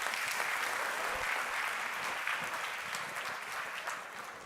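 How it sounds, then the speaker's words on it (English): Live audience at a talk giving a big round of applause, dense steady clapping from a crowd that holds level and begins to fade toward the end. "Give yourselves a big round of applause"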